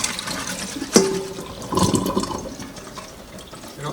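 Water draining from chicken wings soaked in milk in a kitchen, with a sharp clatter followed by splashing, trickling liquid that gradually tapers off.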